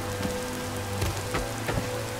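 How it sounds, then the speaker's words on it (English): Rain falling in the video game Skyrim Special Edition, on the island of Solstheim: a steady, soft patter of drops on surfaces with a few slightly louder splashes, heard alone. "where it is raining."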